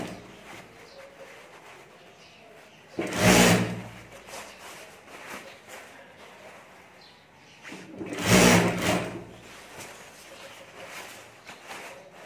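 A sewing machine stitches lining onto a potli bag in two loud, close bursts of rapid whirring, each lasting about a second, separated by quieter handling sounds and pauses.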